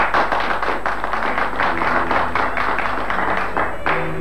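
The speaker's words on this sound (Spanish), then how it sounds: "fuerte el aplauso" Studio audience applause on a comedy talk show, a steady burst of clapping with a low hum underneath and faint voices mixed in.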